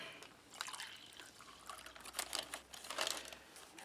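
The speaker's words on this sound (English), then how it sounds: "Give that a little stir." A spoon stirs thick, sweet coffee made from a 2018 MRE ration, giving light, quick clinks and scrapes in an irregular run, close up with no talk.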